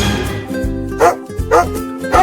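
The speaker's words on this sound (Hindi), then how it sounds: "बाहर बहुत ढेर सारे खतरनाक कुत्ते घूम रहे हैं" Cartoon dogs bark in three sharp, loud close bursts spaced about half a second apart, rising over a low tonal music bed in an animated Hindi children's story.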